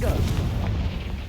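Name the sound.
Confringo blasting spell explosion, Hogwarts Legacy video game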